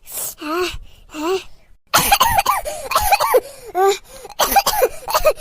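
Several harsh coughs in bursts, with a brief pause, then a longer run of raspy coughing and throat clearing, close and loud.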